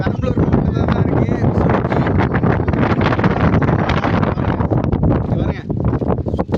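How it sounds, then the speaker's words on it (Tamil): Strong wind gusts across a green hill in Perambalur district, roaring and buffeting the microphone loudly and without a break, with a person talking over it. "இதே பச்சை மலை செல்லு பார்க்கறதுக்கு காத்து செம்மையா அடிக்குது."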